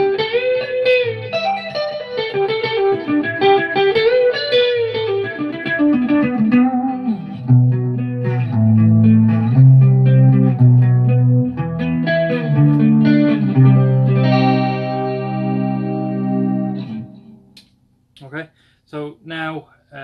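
A Dean Razorback 255 seven-string electric guitar is played through its neck pickup with distortion, a sustained riff of chords and single notes that ends in a few short choked hits.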